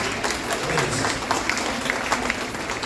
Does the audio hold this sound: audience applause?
yes